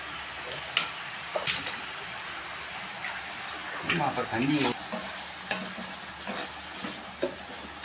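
Brinjal frying with onion, tomato and salt in a pan for thalcha kuzhambu: a steady close sizzle with scattered scraping stirs and clatters, a louder stirring burst midway, and a voice speaking over it.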